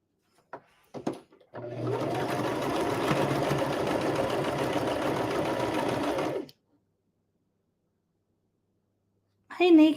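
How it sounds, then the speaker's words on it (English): A sewing machine stitches quilt blocks in one steady, loud run of about five seconds, then stops, with brief handling noises before it and a voice at the end. "Anybody sewing something with me?"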